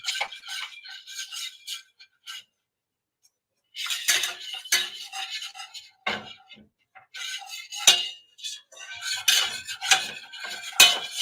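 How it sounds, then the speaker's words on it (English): A spoon stirs a mixture in a bowl for porcupine balls, giving rapid, close scraping clinks against the bowl in bursts separated by short pauses, with no talking. "Now we're going to stir this together."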